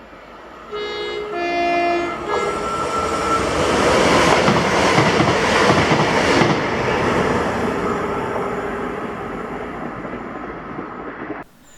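A cross-country service from Edinburgh to Glasgow Central passes through Kirknewton station, sounding a brief two-tone horn before a loud, sustained roar and rumble of wheels and carriages that fades sharply at the end.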